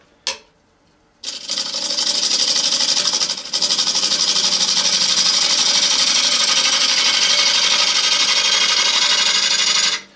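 A wooden bowl spinning on an electric lathe with a tool cutting into it: after a brief knock and a pause, a loud, steady scraping hiss runs continuously for nearly nine seconds.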